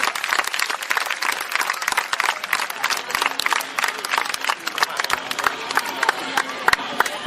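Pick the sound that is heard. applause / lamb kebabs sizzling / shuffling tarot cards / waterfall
applause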